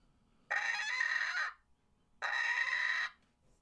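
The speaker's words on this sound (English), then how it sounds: "This is DS Adult Rooster." A rooster crows twice, each call loud, close and about a second long, separated by a brief quiet pause.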